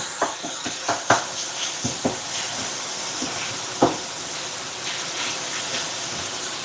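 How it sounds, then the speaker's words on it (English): Ground beef sizzles in a hot pan with a continuous steamy hiss, punctuated by a series of sharp utensil taps and scrapes as the meat is broken apart. "you just want to break up your ground beef a little bit"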